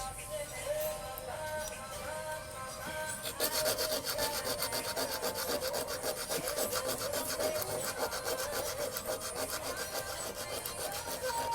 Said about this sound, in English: before you install, make sure that you will sand